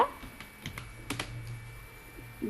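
Typing on a computer keyboard while writing a document in MS Word, a short run of close, light key clicks with a few louder taps, no voices.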